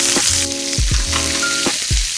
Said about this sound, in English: We want to see this extra sizzling.